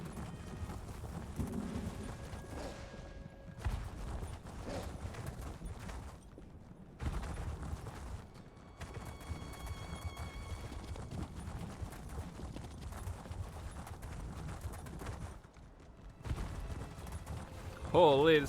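Horse hooves clop steadily while riding in The Elder Scrolls Online's Deadlands, a continuous mid-level rhythm of footfalls mixed with game ambience, and a person talks over it.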